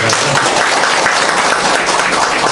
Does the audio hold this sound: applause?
yes